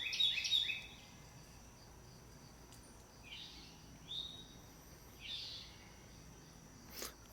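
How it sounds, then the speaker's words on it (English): Several short bird calls ring out at intervals over a quiet outdoor background, a burst at the start and then isolated chirps spaced a second or so apart. "I do love the sounds of nature here,"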